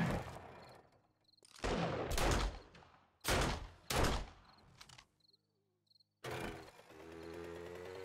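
Gunfire in the zombie survival game 7 Days to Die, four loud sharp shots in separate bursts, each ringing out and decaying, broken by near silence with faint cricket-like chirps between them.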